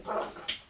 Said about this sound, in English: excuse my dogs, they are playing in the background